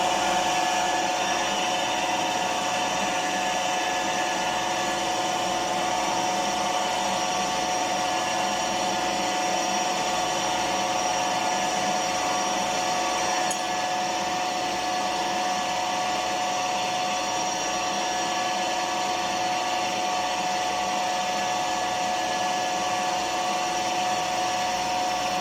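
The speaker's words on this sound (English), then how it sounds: "there are something called long center drills, which I'm using one right now" A long center drill bores into a round metal rod, giving a steady, continuous machine whir with a constant tone that holds evenly for the whole stretch, with no talking.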